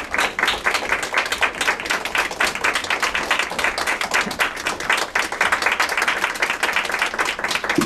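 Audience at a Japan Media Arts Festival talk event gives loud, close applause, distinct individual claps merging into a steady rhythm that continues throughout.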